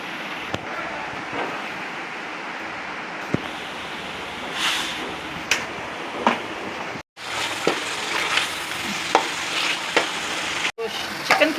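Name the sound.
chicken frying in ghee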